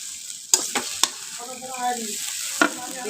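Chow mein with egg stir-fried in a deep wok, sharp clanks of a spatula against the wok between a low steady sizzle, close by, with a brief murmuring voice in the middle.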